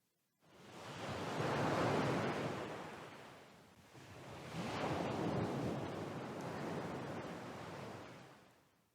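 Ocean waves surging and washing ashore in two long swells, a broad roaring rush that rises, fades and builds again, heard close and steady with no voices.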